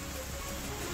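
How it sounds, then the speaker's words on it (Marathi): Steady rain showers falling over towns near Kalyan, Badlapur and Ulhasnagar, a continuous broadband hiss of drops on surfaces with no talking, even and moderately loud throughout. "कल्याण, बदलापूर आणि उल्हासनगरमध्ये पावसाच्या सरी बरसायला सुरुवात झालेली आहे।"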